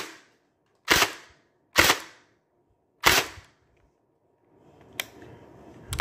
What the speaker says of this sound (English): I'll go ahead with some single shots.